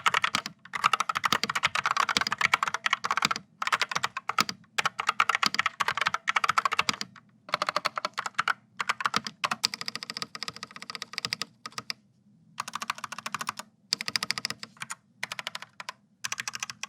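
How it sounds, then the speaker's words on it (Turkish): Typing on an RGB computer keyboard during a typing test, with the microphone set beside it; fast, close, clattering keystrokes come in bursts with short pauses between, with no talking. "Bu arada yazım testi yaparken de mikrofonu klavyenin yanına koyayım."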